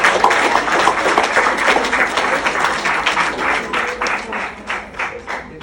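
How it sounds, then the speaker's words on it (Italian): An audience at a conference applauds a student portrait artist, with dense, sustained clapping from many hands that gradually thins and fades toward the end. "Un bel applauso a Maria Bianchi."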